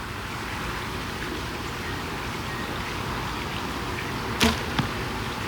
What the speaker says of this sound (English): let's put these 2 arrows in the deer vitals, make some good shots with it